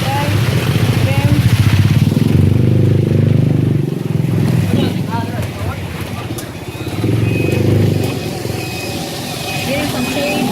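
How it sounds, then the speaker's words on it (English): A motorcycle engine roars loud and close on a rainy street in Basak, Mactan, Lapu-Lapu, Philippines, swelling and easing as it passes, with a dense rumble throughout. "The motorcycle"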